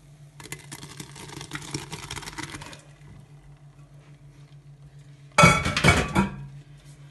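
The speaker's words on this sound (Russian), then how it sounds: "Сейчас я откину на марлечку в другую сковородку." Metal pots and pans clink and clatter in a kitchen as a curd mass is strained through cheesecloth into another pan, a busy rattle early on, then a short, louder burst of clanking near the end, with no talking.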